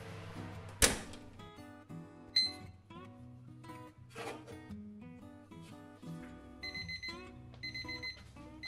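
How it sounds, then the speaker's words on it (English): A digital kitchen timer goes off while mini quiches blind-bake in the oven, a series of sharp electronic beeps and clicks in a quiet kitchen with no talking. "set your timer for 25 minutes"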